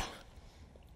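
A single short cough, close and fairly quiet, with a bit of throat rasp and nothing else around it.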